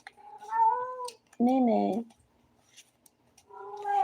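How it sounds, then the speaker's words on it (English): A Siamese cat lets out one loud, drawn-out meow, close to the microphone, between stretches of indoor talking. "My cat is all ready to go and chime in."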